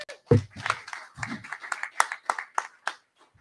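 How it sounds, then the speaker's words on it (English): A small group at an in-person spring representatives meeting claps, a sparse scattering of individual hand claps, fairly quiet and uneven, fading out after a few seconds. "give a round of applause for everyone who actually showed up in person"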